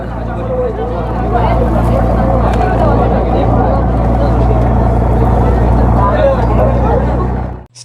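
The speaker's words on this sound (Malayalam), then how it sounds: "ഏകദേശം ഒരു മുപ്പത് കിലോമീറ്റർ വേഗതയിലാണ് ബോട്ട് നമ്മുടെ പെരിയാറിലൂടെ ഇങ്ങനെ സഞ്ചരിച്ചുകൊണ്ടിരിക്കുന്നത്" A tourist motorboat cruising at about thirty kilometres per hour on Periyar lake at Thekkady hums as a loud, steady low engine drone with water rush, under people talking on board.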